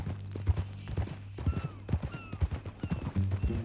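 Hooves of a horse in Red Dead Redemption 2 clip-clop in a steady walking rhythm, close and distinct, with a low hum underneath and faint tonal sounds in the background.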